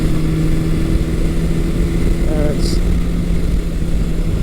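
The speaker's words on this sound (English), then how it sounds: "when I give it throttle, it almost bogs down a little bit" A 1982 Suzuki GS750E motorcycle engine runs steadily and loudly at close range, its rough drone stumbling and bogging slightly under throttle.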